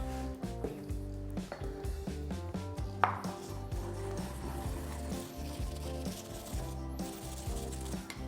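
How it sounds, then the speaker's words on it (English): Garlic cloves are ground with kosher salt, likely with a mortar and pestle, making quiet, steady rhythmic scraping and knocking. A sharper clack stands out once midway, over a faint tonal background hum, and nobody talks. "I've got my garlic and salt all ground up in here"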